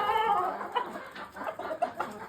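Hens clucking around a brown red rooster in a barn, a close, busy run of overlapping clucks and short calls through the whole stretch, with no talking.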